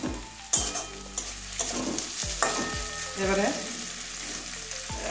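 Flat beans (sim) fry in plenty of oil in a pan with a steady sizzle, broken by repeated scraping clatters as they are stirred up close. A brief word is spoken.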